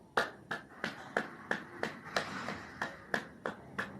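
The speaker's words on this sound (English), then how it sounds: "clap hands for a minute." Hands clapping at a steady rhythm, about three claps a second, a dozen sharp slaps at close range in a quiet room, with no talk over them.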